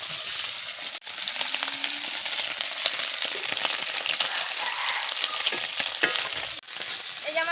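Food sizzles and crackles steadily in hot oil in a pan, a close, continuous frying hiss with occasional stirring scrapes and no talking.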